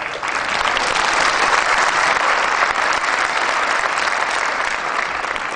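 Dense, steady applause from a large audience at a training session, filling the whole stretch with continuous clapping at a fairly loud level and no voices on top.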